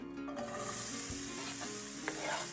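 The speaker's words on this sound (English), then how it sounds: "We got the sizzle, that's the important part." Onions sizzle and crackle steadily in a frying pan, with occasional scrapes of stirring; close and fairly quiet, no talking.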